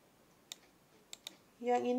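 Three sharp, quiet keyboard clicks spaced unevenly, close up and alone, as a copy-and-paste shortcut is pressed, followed by the start of a voice.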